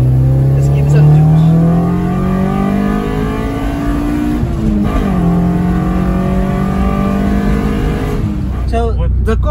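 A built Toyota Corolla with a 7AFE engine and individual throttle bodies revs hard nearby. The loud engine note climbs in pitch, dips and climbs again.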